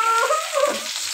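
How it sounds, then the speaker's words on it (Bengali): Chicken pieces frying in hot oil, a close, bright sizzle with crackling spatters of oil, steady and fairly loud over a short stretch. "এই যে মুরগির মাংস ভাজা হইতেছে"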